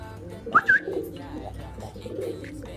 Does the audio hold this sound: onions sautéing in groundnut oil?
no